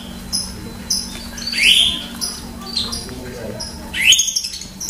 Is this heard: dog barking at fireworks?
no